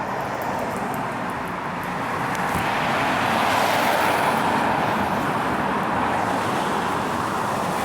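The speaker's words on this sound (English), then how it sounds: "I do mind the traffic though." Steady traffic rolls along a street near the wharf in Bergen, a continuous close roar of passing cars and engines that swells slightly midway, with no talk.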